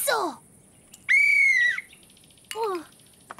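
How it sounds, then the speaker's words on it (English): Toy whistle blown three times in short bursts, the middle blast a longer steady shrill tone, the outer ones brief and sliding downward, close and clear against a quiet background. "My whistle."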